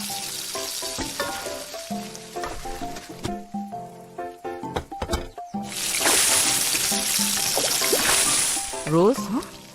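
Eggs fry in a pan in a cartoon kitchen, giving a steady close sizzle that rises and fills the second half while characters talk over it.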